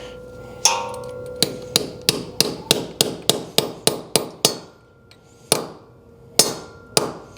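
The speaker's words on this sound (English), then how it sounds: "Get our hammer." Sharp metal hammer strikes on a socket ring out close by, a steady run of evenly spaced blows that slows to a few scattered hits near the end.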